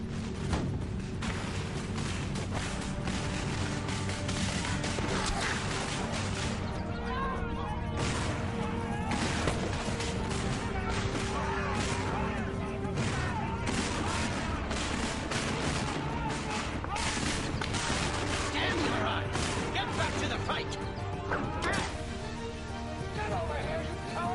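Musket volleys and artillery in a dense woodland battle between redcoats and their enemy: a continuous roar of ragged gunfire cracks and booms, shouting mixed in, with a narrating voice over the din.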